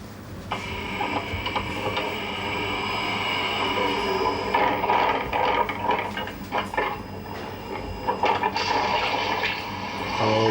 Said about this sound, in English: talking about the water coming in, coming in, coming in